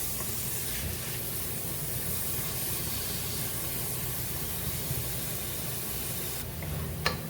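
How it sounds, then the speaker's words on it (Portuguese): Finely chopped onion frying in a pan gives a steady, soft, even sizzle and hiss, close but quiet, alone and without talk. "Deixar fritar."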